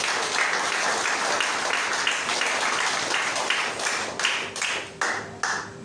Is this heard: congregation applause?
yes